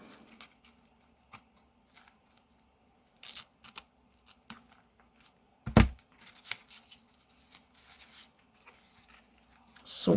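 Masking tape torn from the roll and pressed onto an art journal page in a quiet room: scattered soft rips and crinkles, with one sharper, louder tear partway through and a final burst at the end.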